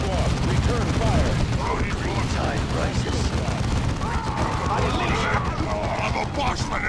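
Dense gunfire and explosive booms rattle through a battle in the real-time strategy game Dawn of War 2, loud and continuous, with voices calling out over the combat.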